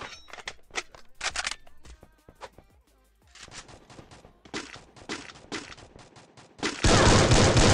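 Rapid bursts of video game gunfire crackle in quick succession, with scattered single shots and a louder, dense burst of noise at the end.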